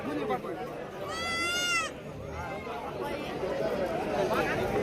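At a Saturday livestock market in Shirur taluka, Pune district, a goat gives one clear, wavering bleat of about a second. It rises over a busy backdrop of crowd chatter and people talking nearby.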